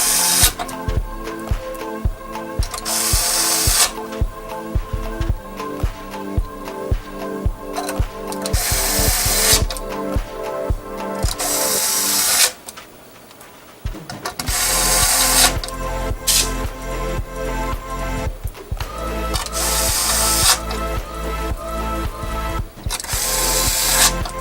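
A Milwaukee power drill drives screws out of the bottom panel of a Mjolnir 2 build, several loud whirring bursts separated by short pauses, close by and with no talk over it.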